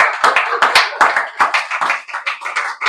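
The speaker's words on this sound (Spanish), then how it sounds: "Denle un aplauso al Señor." A church congregation clapping during a Sunday service, a loud, close flurry of individual hand claps in an uneven, lively rhythm, with no speech over it.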